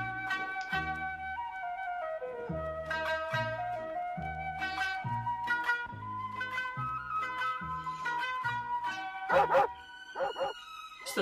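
A dog barking sample set inside a hip-hop track, short yips and bow-wows riding over a steady beat and melodic synth lines, loud and up front with no talk.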